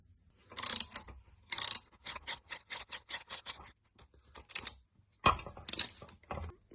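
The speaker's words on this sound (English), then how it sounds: "So I'm going to get a puller on that" A puller is worked onto the dynamo shaft of a classic Volkswagen Beetle, making a quiet series of sharp metallic clicks and taps, first in scattered pairs, then a quick regular run, then a few louder knocks.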